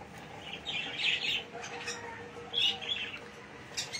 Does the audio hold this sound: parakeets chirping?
yes